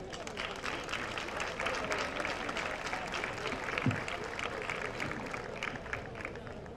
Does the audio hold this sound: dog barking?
no